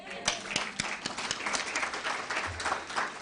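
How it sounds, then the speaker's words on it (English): An audience at a World Breastfeeding Week event claps in a round of applause, with scattered, uneven hand claps that stay fairly quiet and steady for a few seconds. "are we allowed to give MC a round of applause?"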